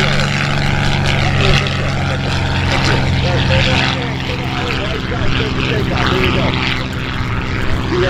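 A propeller airplane takes off at EAA AirVenture Oshkosh, its engine droning loud and steady throughout as a tower controller's voice talks over it.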